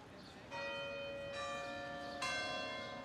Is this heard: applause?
no